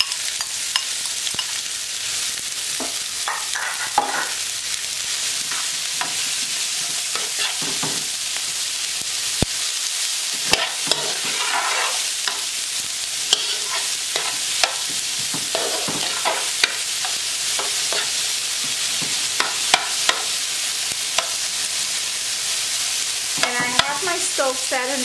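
Onion with red and green bell pepper sizzling in a stew pot for Puerto Rican sancocho, a bright continuous fry with repeated stirring scrapes and occasional utensil knocks, no voices.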